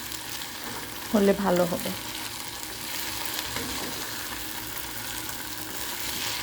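Bitter gourd (karela) cooking in a pan on a low-medium flame gives a steady, soft sizzle throughout, with a brief louder burst of stirring or clatter near the start and a short spoken line over it.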